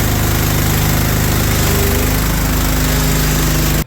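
A power grinder works over welds on a tractor canopy in a garage, giving a loud, continuous buzzing whine with a rough, gritty edge that cuts off abruptly at the end.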